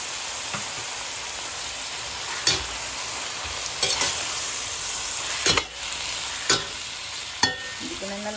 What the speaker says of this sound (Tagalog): Siyempre, lagay na natin yung ating pusit